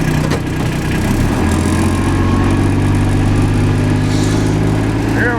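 A Detroit diesel engine on a sawmill rig runs loud and close, a steady heavy drone with a deep throbbing low end that holds unbroken throughout.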